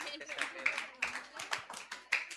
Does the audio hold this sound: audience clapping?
yes